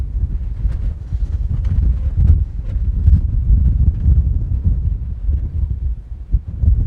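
Coastal wind buffets the microphone at the Needles on the Isle of Wight, a steady low rumbling roar with gusty surges and no speech.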